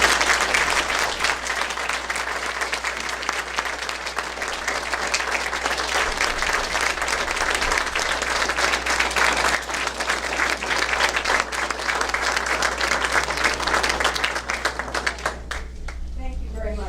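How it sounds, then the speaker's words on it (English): Sustained applause from a meeting audience welcoming a speaker, a long, steady patter of many hands clapping that carries on at an even level before tapering near the end, with a low steady hum underneath. "Please have a round of applause for Dr."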